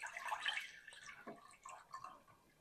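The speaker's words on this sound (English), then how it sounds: "So I'm gonna pour the buttermilk off into a cup here." Freshly churned buttermilk poured off the butter into a cup, giving a soft, close trickle and drip of liquid with no voices.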